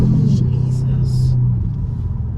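Kia Stinger twin-turbo six-cylinder engine pulling hard under acceleration, a loud steady low drone and road rumble running throughout, with brief bursts of hiss above.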